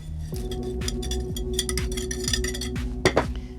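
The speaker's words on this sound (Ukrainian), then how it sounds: "Знов це перемішую" Grated carrot is being stirred into cake batter in a glass bowl, with repeated clinks of a utensil against the glass and soft scraping, a steady rhythm that ends in a couple of louder knocks.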